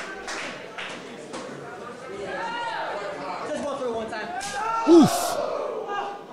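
A wrestling video game arena crowd roars and chatters in a steady swell under an excited commentator's voice, with a brief sharp grunt standing out near the end.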